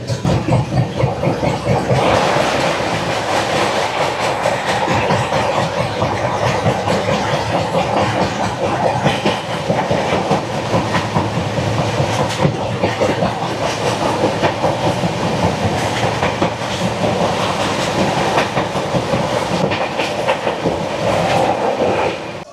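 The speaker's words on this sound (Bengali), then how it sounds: "আমাদের ট্রেন এই মুহূর্তে সে পৌঁছালো তার যাত্রাপথের প্রথম স্টেশন বর্ধমান জংশনে" A long-distance Kaziranga Express passenger train rolls into Bardhaman Junction with a continuous loud rumble, dense wheel clatter and a faint hiss, steady throughout with no break, heard close from on board.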